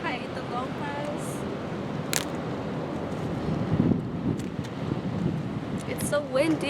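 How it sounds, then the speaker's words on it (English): Gusty outdoor wind near a road buffets the microphone with a low, continuous rumble, while a few faint voices and sounds come through in the background. "It's so windy."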